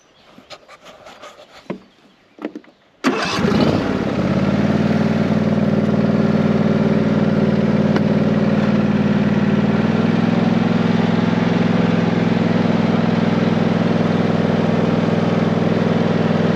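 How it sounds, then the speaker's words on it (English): A John Deere ride-on mower engine starts up at a smallholding with a loud cranking burst, then settles into a steady, close, continuous idle that drones on without a break. "I'll come for a ride and I'll start the mower up"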